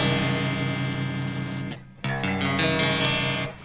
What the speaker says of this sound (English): I just unboxed my first ever brand new electric guitar